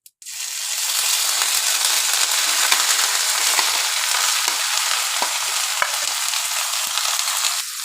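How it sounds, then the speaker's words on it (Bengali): Marinated shrimp frying in ghee and oil with whole cumin seeds in a pan sizzle loudly and steadily after an initial clatter, with occasional scraping clicks from stirring. "চিংড়ি মাছটা ভালো করে কষাবো তেলের সঙ্গে।"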